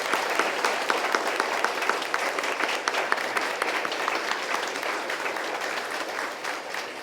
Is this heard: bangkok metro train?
no